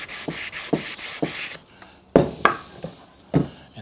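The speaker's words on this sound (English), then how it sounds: "we're going to quickly sand the top of" Sandpaper rubbing back and forth over the top of a wooden box gives about five quick, rhythmic rasping strokes up close, then a pause and a few scattered louder knocks and scrapes of handling the wood.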